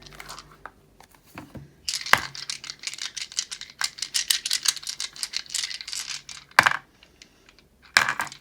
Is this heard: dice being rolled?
yes